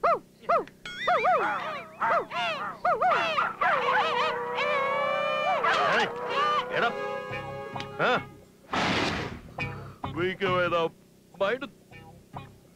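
Men in a midnight film scene imitate barking dogs with their voices, giving loud, wavering howl-like calls close by that then break into rougher shouts, with talking mixed in.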